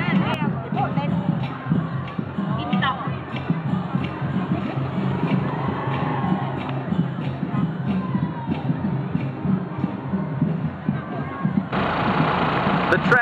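A tractor engine idles and rumbles through a monk boat procession in Thailand, low and continuous under crowd babble and people talking nearby.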